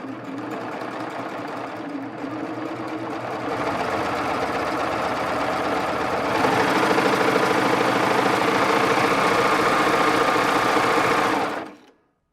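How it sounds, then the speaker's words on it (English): Baby Lock serger stitching elastic onto stretchy Lycra fabric, a steady close-up mechanical whir that rises slightly in intensity partway through and runs continuously until stopping abruptly at the end. "did you know that you can actually apply elastic to fabrics like Lycra and do it all in one fell swoop? It's simple and easy to do on a serger."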